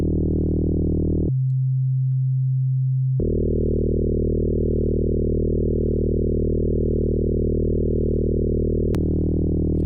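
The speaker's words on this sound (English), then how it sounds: "So let's compare that with the sine wave." Yamaha TX81Z FM synthesizer playing plain sine-wave tones, a clean steady held note that drops to a lower pitch briefly, then returns as a long sustained tone ending with a click and a short change in timbre.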